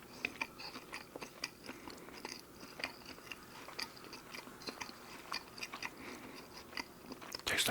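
Close, crisp bites and chewing on a Tim Hortons Supreme Garlic Stack sandwich with cheese, irregular crunchy clicks and soft mastication repeating steadily, with a louder crunch at the end.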